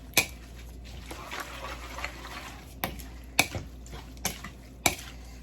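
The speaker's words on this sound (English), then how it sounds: "I'm gonna add this shrimp and lemongrass together. And mix." Shrimp and lemongrass for a Lao glass noodle salad are mixed in a bowl, soft stirring and wet shuffling punctuated by several sharp clinks of a utensil against the dish, close and quiet.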